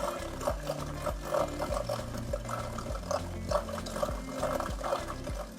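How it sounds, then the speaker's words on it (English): A Sunsun Nano hang-on aquarium filter starts up again, and water gurgles and splashes over a rhythmic mechanical chugging that repeats steadily, heard up close with no talking. "this is a typical hang-on filter. I just turned off the power and let's start it again."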